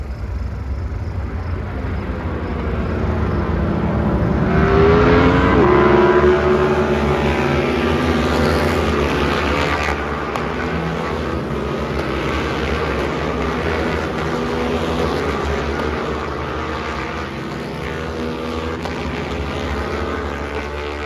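Twins Cup racing motorcycles pass at Road America, engines droning loud and continuous as the pack sweeps by, pitch rising and falling with the passes.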